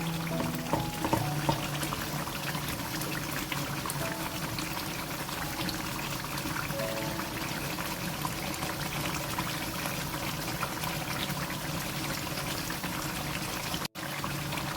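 A cup of water pours into a hot pot of chicken curry to make broth, giving a continuous bubbling sizzle for many seconds, with a single sharp clunk near the end.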